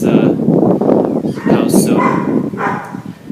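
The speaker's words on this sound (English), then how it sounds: "Sorry about the dog" A dog barks a few times in the background indoors while a person talks over it, the barks short and somewhat muffled under the speech.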